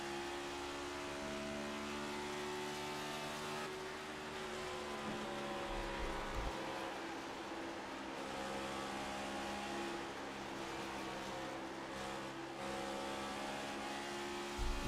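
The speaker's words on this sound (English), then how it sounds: "You can hear Lowell really feathering that throttle, trying to get that car positioned in the right spot" A race car engine drones loudly and steadily, the throttle feathered on and off in small pitch changes, heard on board during the Lady in Black 185 race.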